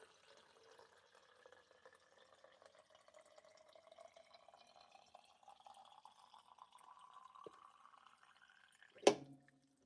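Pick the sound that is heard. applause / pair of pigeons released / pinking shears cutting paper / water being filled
water being filled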